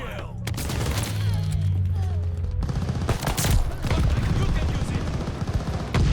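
Gunfire from a 1911 pistol in Call of Duty Vanguard, dense rapid bursts of shots and booms through most of the clip over constant game-battle noise, with a voice talking at times.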